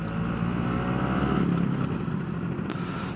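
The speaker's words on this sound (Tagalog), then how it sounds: "So makikita nyo naman yung takbo ng motor natin, talagang mahahaba yung kumbiyada ng 2-stroke." A 1998 Yamaha F1ZR two-stroke motorcycle runs close by, its engine holding a loud, steady drone with a slight rise in pitch, heard alone without talking.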